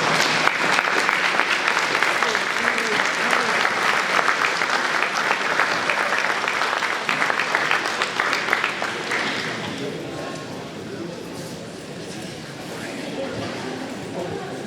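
An audience claps at a sports wall of fame induction ceremony, sustained full applause that thins and fades after about ten seconds into quieter room noise with voices.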